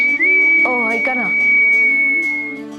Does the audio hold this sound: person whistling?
yes